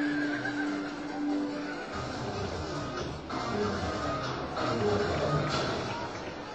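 A Friesian stallion whinnies during an equestrian parade in Andravida, its neigh rising over a busy outdoor background with murmuring voices and shuffling movement.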